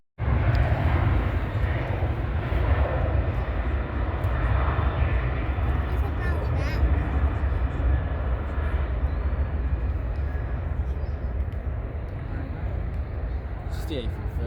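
An Airbus A330 airliner taxis at Manchester Airport, giving a loud, steady jet engine roar with a broad low rumble that holds nearly constant throughout, and a voice talks faintly beneath it.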